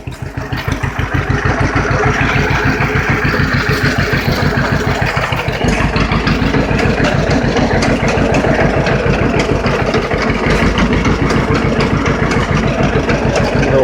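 A tractor engine runs steadily with its PTO engaged, loud and close, with a fast even low chug and some mechanical clatter throughout.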